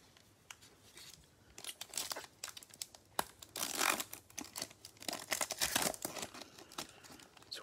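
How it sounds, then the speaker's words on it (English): A Prizm basketball trading card pack is torn open up close, with crinkly foil-wrapper tearing and crumpling in irregular bursts, quiet and with no talking. "It's one way to open a pack"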